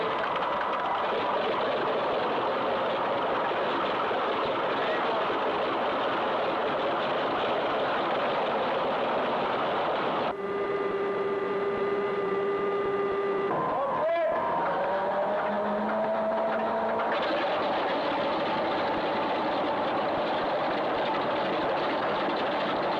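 An aircraft engine runs in a test cell at a repair station with a loud, continuous roar, and a steady tonal whine rises and shifts through the middle of the run.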